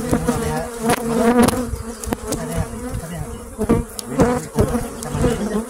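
Honeybees buzz steadily at close range, a dense droning hum with many overlapping wingbeats rising and falling around a hive.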